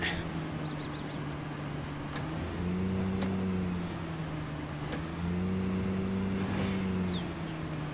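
An off-road vehicle engine in the fishing game Call of the Wild: The Angler hums steadily, its pitch stepping up and down with automatic gear changes, close and continuous with faint clicks over it.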